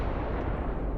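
A particle detonation explosion in the video game Starfield, heard as a continuous, loud, deep rumbling roar that fills the whole moment at steady strength without any talk.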